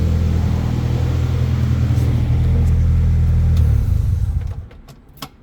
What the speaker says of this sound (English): Yeah, man, this car runs good.